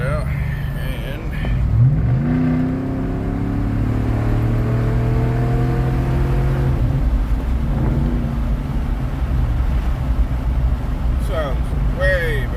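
Idling and revving V8 from a 2010 Chevy Silverado with a 5.3 LC9 engine, Magnaflow 14419 muffler and third cat delete, a deep steady rumble with rising rev sweeps, heard close with windows partly down.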